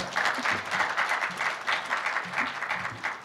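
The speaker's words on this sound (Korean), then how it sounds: "박수 부탁드립니다" Audience applause at a film awards ceremony, a quieter crowd clapping in a steady patter for a few seconds without a break.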